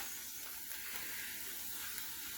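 A pound of ground beef frying in a pan with onion, salt, pepper and garlic powder, giving a steady close sizzle with a soft hiss throughout and no voices.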